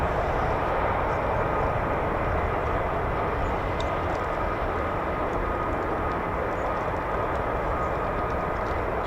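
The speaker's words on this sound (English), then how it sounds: "Just wait for the aircraft to taxi." An aircraft taxis on an airfield near the north end-of-runway area where a maintenance crew waits, a loud, continuous engine roar with a broad rushing tone that stays steady.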